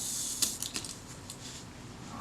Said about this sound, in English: Let's cock that shutter again.